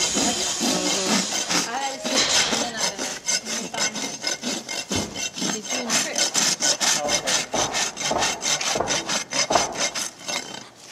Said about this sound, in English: There's that rasping work.